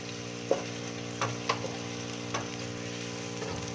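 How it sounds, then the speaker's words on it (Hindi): Onions fry toward brown in a pan for Pakistani-style achari chicken, a constant close sizzle with occasional sharp pops and light clicks of stirring, steady and unbroken throughout. "प्याज को हमने ब्राउन करना है।"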